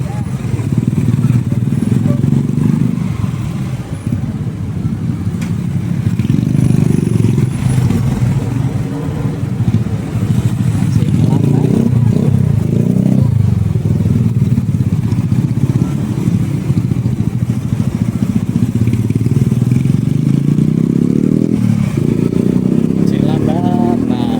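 Motorcycles and cars stream steadily along Jalan Junjunan, a busy Bandung city street on a weekend, with a constant loud engine drone and occasional revving passes close by throughout.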